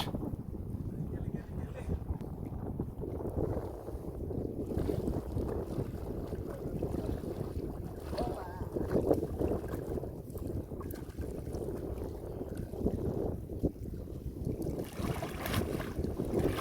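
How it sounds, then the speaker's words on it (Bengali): Strong wind buffets the microphone on a river in the South Sundarbans, recorded from a fishing boat, a loud continuous low rumble with gusts throughout and faint water movement beneath. "আজকে প্রচুর পরিমাণে নদীতে বাতাস"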